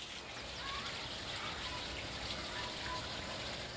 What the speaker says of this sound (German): Die Brunnen funktionieren noch, angetrieben durch eine elektrische Pumpe